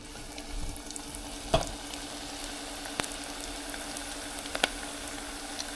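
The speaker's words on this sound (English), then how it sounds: "stand by because we are fixing to fry these things up" Wild hog Filipino lumpia fry in hot oil, giving a steady, low sizzle with a few sharp pops and crackles and no talking.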